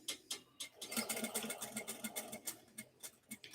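A sewing machine stitches the seam of a fabric bucket bag, giving a quiet, steady, rapid mechanical clatter with even pulses throughout.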